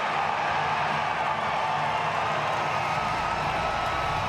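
A loud, steady roar from a college baseball crowd as Arkansas plays Oregon State, a dense and continuous wall of cheering that fills the whole stretch without letup.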